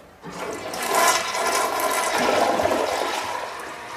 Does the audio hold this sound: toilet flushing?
yes